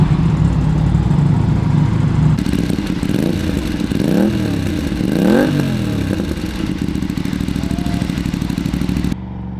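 An Aprilia RS 457 motorcycle fitted with an SC Project aftermarket exhaust runs loud and close, a steady rough idle giving way to two rising revs with a raspy, crackling exhaust note.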